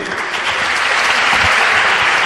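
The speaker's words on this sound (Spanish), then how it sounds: "Fuerte aplauso para Según." Strong, sustained applause fills a student science congress hall, a dense continuous clapping from the crowd that holds steady and loud throughout with no one speaking over it.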